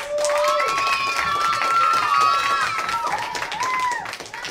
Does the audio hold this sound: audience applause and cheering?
yes